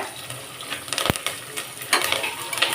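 Curry leaves hit hot oil in a one-pot pan and crackle in a short burst of sharp pops and spits, close up with a few scattered clicks and no talking.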